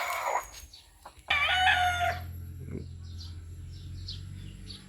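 Young roosters, still stags, crow at close range in a rural yard, with one loud crow followed by fainter calls and softer clucks in the background.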